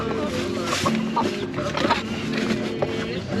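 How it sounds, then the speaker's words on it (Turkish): Three roosters cluck and call close by, overlapping in a busy, noisy poultry market in Taşköprü, Kastamonu. "Üç tane horoz var."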